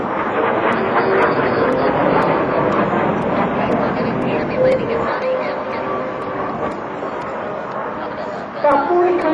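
A Polish LIM-5 jet fighter flies at an air show, a sustained loud engine roar that eases slightly before surging again, heard beneath someone talking.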